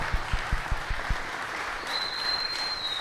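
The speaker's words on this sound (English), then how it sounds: "Let's get a round of applause for these guys" An event audience at a combat league media day applauds, starting with a few distinct rhythmic claps that blend into a softer crowd clapping. A thin high tone appears near the end.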